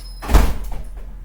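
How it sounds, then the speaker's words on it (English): A single door swings shut with a dull, close thud followed by a short rattle settling into quiet, heard alone in an indoor room. "Close the door."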